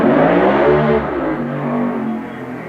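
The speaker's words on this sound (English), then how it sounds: "That was either a car or a motorcycle, but I had to pause. Let's wait till it leaves." A car or motorcycle passes by outdoors, its engine swelling loud and close, then fading as it moves away. No voices are heard.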